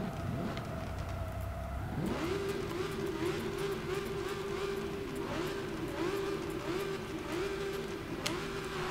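A supercar engine revving and accelerating, a steady rising roar that climbs then holds a high pitch, moderately loud under wind, with no voices.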